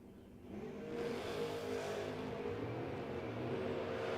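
Drag race cars, a Chevrolet Monza and a Ford Mustang, roar down the strip with a loud, steady engine drone that swells early and holds, heard from a moderate distance.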